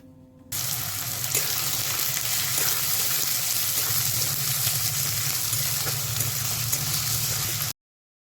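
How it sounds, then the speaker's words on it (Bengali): Chopped onions fry in hot oil with sugar, giving a steady, loud, close sizzle and hiss that continues unbroken for several seconds, with no one talking. "এরপর এই পেঁয়াজগুলোকে বাদামি করে ভালো করে ভাজতে হবে"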